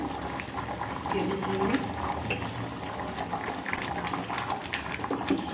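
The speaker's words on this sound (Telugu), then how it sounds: "బాగా ఉడుకుతాను చూసారా" A pot of goat head curry bubbling at a steady boil with extra water added, a dense continuous simmering and rolling bubble noise, close and moderately loud, with a voice speaking over it at times.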